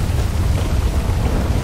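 A thunderstorm in a GTA video game, a loud, close rumble of thunder rolling over heavy rain in a brief burst.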